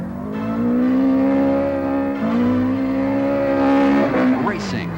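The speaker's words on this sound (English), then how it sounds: "cars tear across an arid countryside" Racing cars tear across arid countryside with a loud, continuous engine drone whose pitch climbs and steps as they shift, ending in a brief high whine like tires squealing.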